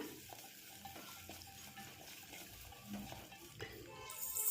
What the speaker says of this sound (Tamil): வெங்காயம் வதங்கிட்டு உப்பு சேர்த்துக்கிறேன்.